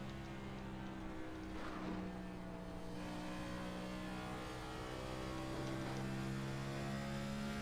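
A race car from a build series accelerates out of a corner, the engine a steady, distant drone that swells gradually and stays low in level.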